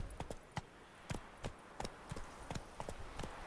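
Rhythmic hoofbeats of the horse Roach running in The Witcher 3, a steady clip-clop gallop of close, crisp impacts repeating at an even pace over light ambient background.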